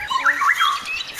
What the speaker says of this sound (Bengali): ওই থেকে মনে হচ্ছে অনেকগুলো পাখির ডাকাডাকি শব্দ শোনা যাচ্ছে না?